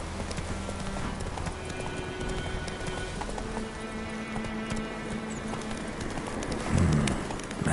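Galloping horse hooves in The Witcher 3 pound in a steady rhythm across an outdoor game landscape, mixed with bird and dove-like calls and ambient game sound, fairly loud and continuous.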